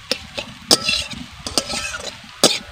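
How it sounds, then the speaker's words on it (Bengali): Small pieces of egg fry in a pan for an egg momo filling, with soft steady sizzling broken by several sharp stirring scrapes and clinks of a utensil against the pan, close and fairly loud, with no talk. "ডিমকে আমি ছোট ছোট টুকরো করে ভেজে নিয়েছি।"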